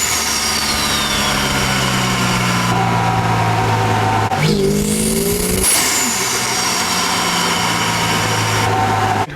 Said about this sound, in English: But it did make a lot of cool spoolie sounds.